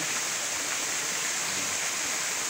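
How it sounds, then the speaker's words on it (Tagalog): A small waterfall pouring steadily, a constant rushing hiss of falling water heard close with no voices. "Maliit lang na talon"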